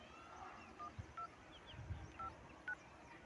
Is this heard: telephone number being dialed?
yes